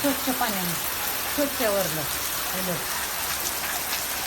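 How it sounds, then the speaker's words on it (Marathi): Steady heavy rain pours down in a dense, continuous hiss, with a person talking over it throughout. "जोरदार आहे की नाही सकाळ सकाळ सुरू झालाय पाणी मग सुरू झालं पडायचं"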